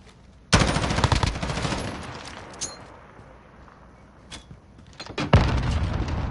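Loud explosion from a grenade in a competitive tactical shooter match, followed by a sharp burst of gunfire that trails off and then returns later, with sparse impacts in between.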